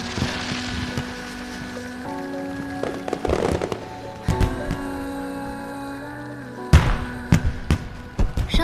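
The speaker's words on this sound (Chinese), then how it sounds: "快看烟花！" Fireworks burst in a series of loud, sharp cracks and booms with crackling tails. A soft musical bed runs underneath, and there is no speech.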